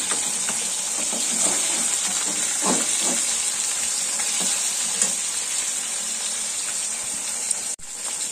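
Slit green chillies and grated tomato frying in a pan with a steady, loud sizzle throughout, broken by a few soft scrapes of stirring and a brief clunk near the end.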